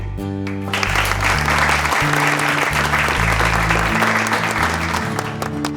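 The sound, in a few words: audience applause in TV drama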